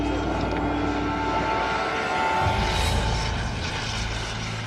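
A fixed-wing propeller airplane touches down at Talcha airport, its steady engine drone loud and continuous with a swelling roar midway through, no voices.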